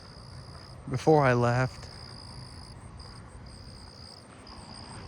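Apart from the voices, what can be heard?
southeastern field crickets chirping at night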